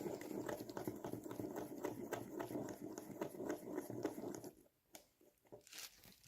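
A stick stirs model paint in a small tin with faint, soft wet scraping and patter, a quiet rhythmic swirling that stops near the end.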